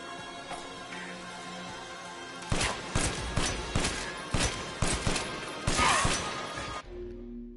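Sharp, loud gunshots in Resident Evil Village ring out one after another, about eight heavy blasts at steady intervals over a quiet game ambience, with a brief louder burst near the end before it cuts to low hum.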